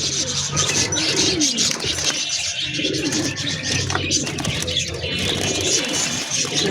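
A pair of lively pet pigeons coo close by, their soft repeated calls running steadily with some rustling.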